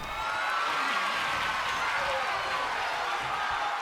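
A wrestling crowd cheers and applauds in a dense, continuous roar of clapping and shouting. The noise stays loud and steady throughout, with some voices audible within it.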